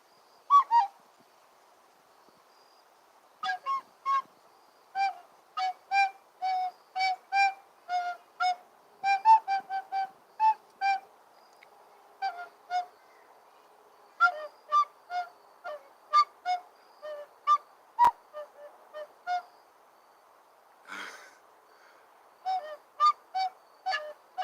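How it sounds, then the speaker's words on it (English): A harmonica plays the Dawn of the Dead tune as a solo, with short reedy notes repeated in quick rhythmic phrases separated by brief pauses, close and clear. "Guess I'm better at harmonica."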